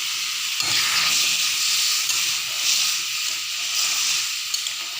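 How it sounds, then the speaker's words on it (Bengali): Whole spices sizzle as they are tempered in hot oil for a Bengali curry of koi fish, broad beans and potatoes, with a loud, steady, close-up hiss that flares sharply at the start and then holds. "তো দিয়ে দিলাম ফোড়ন।"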